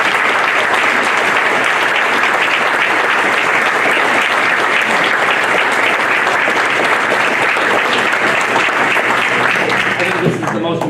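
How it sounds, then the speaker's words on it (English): A fire department EMS anniversary crowd gives a long, loud round of applause, thick continuous clapping from many hands that holds steady for about ten seconds before starting to thin at the very end. "How about a round of applause for these guys?"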